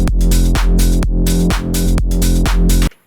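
A loud, syncopated melodic tech house bass line pumps in a groovy, off-beat rhythm with steady kicks beneath it. It plays alone and cuts off abruptly at the end.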